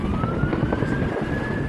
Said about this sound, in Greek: Οι σιρήνες των πυροσβεστικών οχημάτων σπάνε τον ήχο της μανίας της φωτιάς.